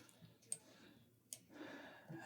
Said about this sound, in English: so I'm going to click that little button there.